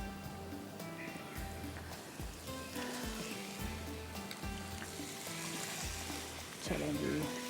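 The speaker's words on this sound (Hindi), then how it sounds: "ये बस हम इसको रखते हैं फ्राई करने के लिए" Tawa chicken frying in a hot pan, a steady close sizzle running throughout with faint clinks and stirring; the sizzle swells louder near the end, and no one speaks.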